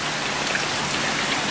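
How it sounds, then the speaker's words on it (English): Heavy rain pouring down in a dense, constant wash of drops, loud and close throughout, with no voices. "It is pissing it down. It is raining so much."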